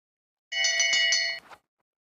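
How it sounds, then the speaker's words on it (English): A bell rings rapidly for the final lap of a 1,500 m speed skating race at an international meet, a bright, loud clanging burst lasting about a second with no talk. "Bell lap has gone on for de Height and Weideman."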